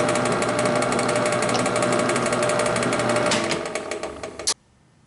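A power drill bores countersinks in a part for a Ludwig drum stand, a steady loud whirring drone that slows and winds down near the end before cutting off abruptly into silence.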